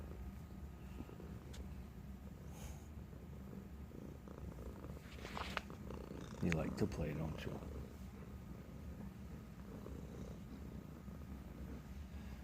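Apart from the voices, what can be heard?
Bengal kitten purring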